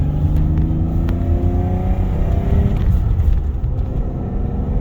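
A BMW E34 Touring drives with a loud, steady engine drone, its pitch rising and falling through gear changes without a break.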